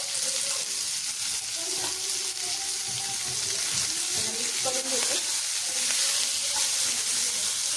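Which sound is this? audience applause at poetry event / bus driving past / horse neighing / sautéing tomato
sautéing tomato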